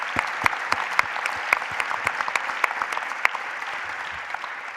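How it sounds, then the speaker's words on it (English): A conference audience gives applause to panelists at a plenary session, a steady patter of many hands with a few sharper individual claps standing out, moderately distant. "I would like to give a round of applause to our panelists."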